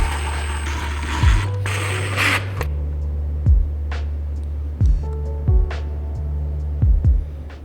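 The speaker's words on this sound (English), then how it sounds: "I'm also going to gently screw this down onto a piece of wood just so it doesn't move" A screw being driven into a piece of wood to hold a lamp part in place, heard as short ratcheting bursts with whining motor-like tones, repeated several times with brief pauses between them.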